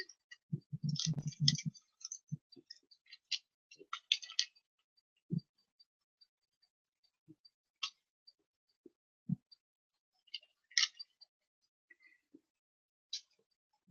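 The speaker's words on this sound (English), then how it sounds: "Sorry about the clicking now. It's my toaster oven." A countertop toaster oven baking at about 200 Fahrenheit gives off sparse, irregular clicks and ticks, faint and spaced several seconds apart, with a short cluster of louder knocks near the start and quiet gaps between.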